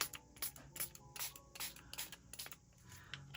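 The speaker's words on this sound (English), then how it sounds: "Here's a spray ink." Several short, quiet hissing sprays of ink from a spray bottle in quick irregular succession, close up, with faint handling noises between them.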